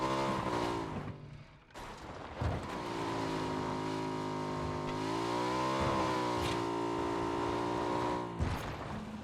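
A motorbike engine in the battle royale game PUBG holds a steady, sustained drone with rising and falling pitch as it revs, loud and continuous for about nine seconds.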